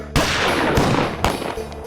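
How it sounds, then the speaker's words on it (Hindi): Three sharp, loud celebratory pistol gunshots at a wedding crack in quick succession over a dense, noisy background. "के बाद चली जश्न दी गोलियां"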